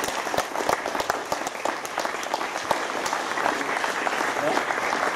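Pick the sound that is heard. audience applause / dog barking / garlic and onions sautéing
audience applause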